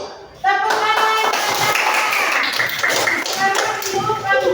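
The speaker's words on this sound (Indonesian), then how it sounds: "tepuk tangan." Children in an Indonesian school class clap together in a rhythmic patterned clap during a review game, loud and close, with voices mixed in among the claps.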